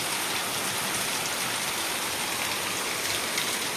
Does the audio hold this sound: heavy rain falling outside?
yes